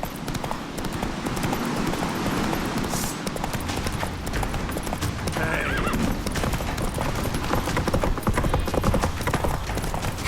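Galloping horses from The Witcher 3: Wild Hunt, with loud, dense hoofbeats and whinnies throughout, mixed with busy in-game action noise.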